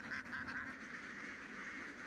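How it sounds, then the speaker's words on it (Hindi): Ducks foraging in rice fields give steady, faint quacking and honking calls that blend into a continuous chatter with no talk. "बतखों के ऐसे 4 झुंड हैं, जो इस प्रांत के अलग अलग खेतों में घूमते रहते हैं"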